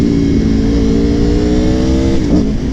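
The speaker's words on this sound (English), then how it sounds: "I love to hear that V4 engine" A V4 motorcycle engine hums loud and close, its pitch climbing smoothly as it revs up, then wavering briefly near the end.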